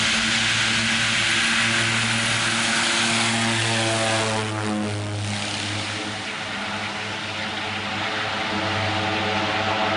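Propeller airplane engine running hard in a takeoff attempt that fails, a loud, steady droning roar with a throbbing hum that dips slightly midway and keeps going to the end.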